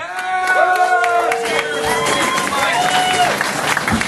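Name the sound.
audience applause for comedian at comedy club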